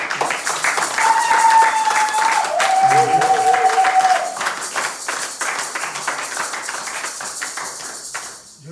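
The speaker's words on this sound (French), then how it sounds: "Je veux qu'on acclame d'abord." A church congregation at a Sunday service breaks into sustained applause, a dense wash of clapping that swells and then gradually thins, with a voice calling out over it partway through.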